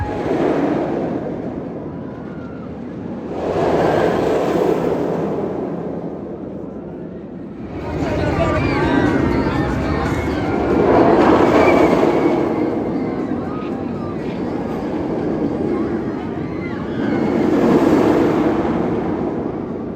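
The Mine Train roller coaster at Six Flags Great Adventure rumbles and roars past in repeated swelling waves, loud and steady, with a clattering mechanical drone underneath.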